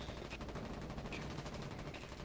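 Gunfire in the war video game Foxhole during a night-time battle, heard as faint, distant volleys of rapid shots crackling steadily in the background.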